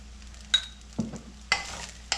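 Spiced brinjal rice being quickly mixed after salt is added, giving four short scraping stirs spaced about half a second apart, close and fairly quiet, with no talking.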